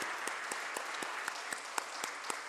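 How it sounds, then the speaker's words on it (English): A packed audience gives a thunderous round of applause at the stock listing ceremony of Fascinate Textiles Limited in India: steady, dense clapping with a few sharper individual claps standing out, loud and close throughout. "A huge thunderous round of applause."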